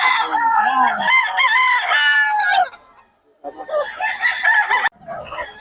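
A stag gamecock, a young banded WPC fighting rooster, crows loudly up close twice, each call a long wavering cock-a-doodle-doo with a short pause between them.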